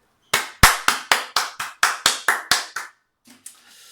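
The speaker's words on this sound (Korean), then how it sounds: "우리 예배를 받으신 하나님께 영광의 박수 올려드립니다" Roughly ten evenly spaced, crisp hand claps from a small church congregation at a Sunday service, loud and close in a quiet room, followed by a couple of faint softer sounds.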